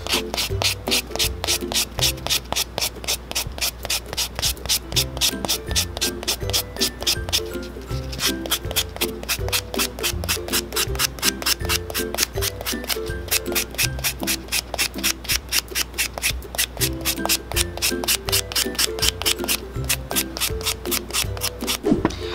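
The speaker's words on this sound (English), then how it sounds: "I'm just gonna buff out the nails to smooth out the surface." Natural fingernails are buffed to smooth the surface, giving fast rhythmic back-and-forth rubbing strokes that run steadily and close to the microphone for over twenty seconds.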